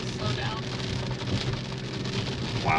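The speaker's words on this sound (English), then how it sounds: "Like if the rain slows down, the wipers slow down." Steady rain patters on a car windshield while driving through Wisconsin's Driftless Region back roads, a dense, even wash of drops with faint low road rumble and no clear wiper strokes.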